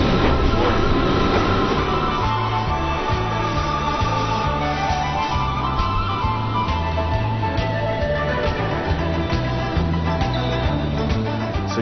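Ride aboard a Pyongyang subway train: a loud, continuous low rumble with a rhythmic pulsing beat and metallic rolling noise heard from inside the carriage.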